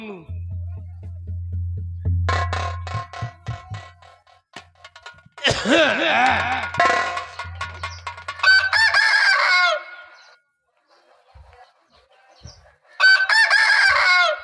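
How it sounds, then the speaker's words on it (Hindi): A rooster crows loudly several times during a lively Indian folk theatre nautanki performance, its drawn-out calls rising above clucking and other stage and crowd noise. "जल्दी करो मुर्गा बोले"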